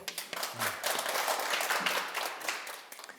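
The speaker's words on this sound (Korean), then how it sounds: "박수 한번 치세요." An audience at a Sunday religious talk claps in a short burst, with a few scattered claps at the start, swelling into full applause, then thinning out toward the end.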